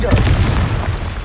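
A Confringo fire spell explodes in Hogwarts Legacy during a goblin battle, a loud booming blast with a sharp crackling burst at the start and a rumbling low tail that carries through the short moment.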